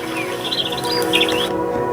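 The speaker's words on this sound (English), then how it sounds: "Follow the sounds of the birds." Birds chirping and tweeting by a lake in quick bright bursts, several calls overlapping against a soft steady outdoor background.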